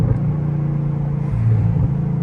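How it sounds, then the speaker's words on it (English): Supercharged Chevrolet Camaro ZL1 engine while driving at night, a steady loud low rumble with a slight rise in pitch near the end, continuous and close, no talking. "I hear the supercharger louder than when in like what do you call that? Like the race mode"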